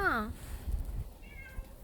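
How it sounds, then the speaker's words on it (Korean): A cat gives a clear rising-falling meow at the very start, close and loud, followed by softer low rustling and a faint higher squeak later on. "우리 고양이 거기 있어?"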